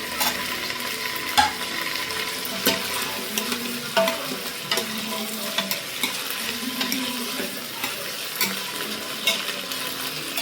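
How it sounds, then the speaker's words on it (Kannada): Pigeon peas and potatoes frying in oil in a pan for a rustic pigeon pea sambar, a steady close sizzle broken by regular scraping stirs, with no talking. "ಈಗ ಇದಕ್ಕೆ ಒಂದು ಕಾಲ ಎರಡು ಆಲೂಗಡ್ಡೆ ಕಟ್ ಮಾಡ್ಕೊಂಡು ಸೇರಿಸ್ಕೊಳ್ಳೋಣ"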